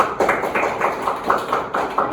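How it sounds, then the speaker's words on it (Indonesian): Classroom of primary school children clapping for a classmate, a quick run of roughly eight sharp, evenly spaced bursts of applause, fairly close and loud, with no talking over it. "Oke, tepuk tangan untuk temannya"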